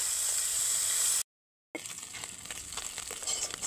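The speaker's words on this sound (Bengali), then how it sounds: "মাছটাকে কিন্তু নুন হলুদ মাখিয়ে কিন্তু ভেজে নিচ্ছি" Tengra fish coated in salt and turmeric frying in hot oil, a steady close hiss and crackle that cuts out briefly to silence before resuming with irregular spitting pops.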